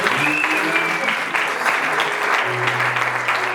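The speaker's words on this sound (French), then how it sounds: "Est-ce qu'on peut acclamer, s'il vous plaît?" Guests at a French civil wedding ceremony break into sustained, dense applause that fills the room from start to finish, with brief faint voices and a low tone surfacing near the end.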